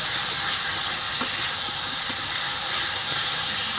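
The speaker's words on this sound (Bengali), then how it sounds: "এবার আমার তরকারিটা ভাজা হয়ে গেছে" Vegetable curry spiced with salt and turmeric fries in a pan for papaya and fish jhol, giving a steady loud broadband hiss and sizzle with a few faint clicks of stirring throughout.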